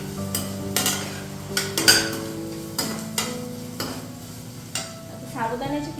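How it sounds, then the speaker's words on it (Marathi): Green chillies fry in a pan for sabudana khichdi while a utensil scrapes and knocks repeatedly against the metal, over a low steady sizzle and without voices. "आता हिरवी मिरची पण यामध्ये मस्त फ्राय करून घेते."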